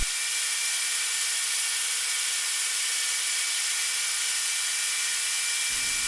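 A pulverizer grinding its wheels to make them round again, giving a steady, continuous abrasive hiss and rasp that holds unbroken and fairly loud for the whole stretch, with no talking.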